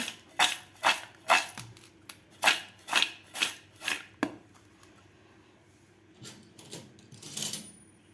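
Potato chivda, a crisp fasting snack seasoned with rock salt, being stirred with a spoon: a run of rhythmic dry rustling scrapes, about a dozen close strokes, then a quieter pause and a few softer stirs.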